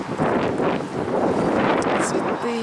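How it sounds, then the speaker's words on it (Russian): Strong wind buffets the microphone outdoors on a hot day during a walk along a city avenue, a loud continuous rumbling roar that swells and dips throughout. "и ветерок прям офигенный"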